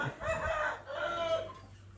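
Young three-month-old chickens cluck and call close by in two short bursts, a brief quiet gap between them, with no talk over them.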